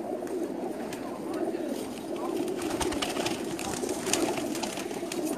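Pigeons on a rooftop loft coo and call in a steady, busy chorus, with a constant layer of bird noise and occasional soft voices in the background.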